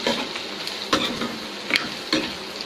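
Onions fry in a pan with garam masala powder, a steady close sizzle broken by three scraping stirs of the spoon.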